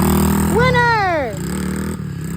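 A pit bike engine revs hard during a wheelie, its pitch sweeping up then dropping back down, loud and close, with a steady engine drone continuing afterward.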